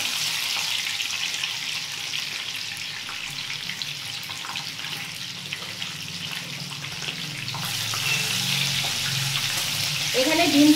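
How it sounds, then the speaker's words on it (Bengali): An egg fries in hot oil and ghee in a pan, giving a steady close sizzle that grows louder near the end, with faint kitchen clatter. "তেলটা গরম হয়ে গেছে, আমি ডিমটা ছেড়ে দিচ্ছি।"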